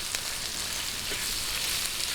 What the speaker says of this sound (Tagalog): ilalagay na po natin tong ating ham. Ayan. Sagusahin lang po natin